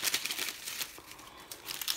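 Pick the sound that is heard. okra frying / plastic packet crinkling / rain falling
plastic packet crinkling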